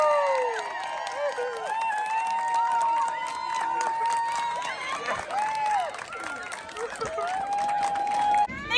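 An audience at a sundial competition cheering and applauding, with lively crowd noise, shouts and clapping mixed with excited voices throughout.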